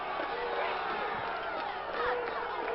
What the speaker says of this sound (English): And the crowd starting to boo there